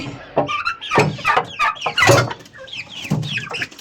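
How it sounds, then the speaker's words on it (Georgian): Chickens cluck in quick, clustered bursts nearby as they come in for the evening, several birds chattering over one another at a moderate level. "ძალიან მორჩილად შემოდიან ქათმები"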